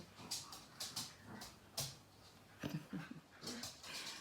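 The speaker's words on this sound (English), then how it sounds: "Can you hear my dogs playing?" Dogs scuffle and whine faintly in the background, with soft repeated yips and thumps scattered through the quiet.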